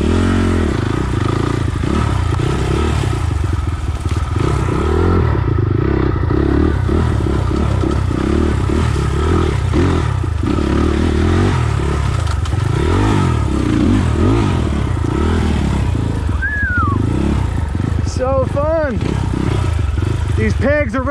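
A 2020 SSR SR300 Chinese dirt bike ridden alone on a rutted trail, its engine droning loudly and rising and falling continuously with shifts in throttle, accompanied by clattering and scraping, while a rider talks over it.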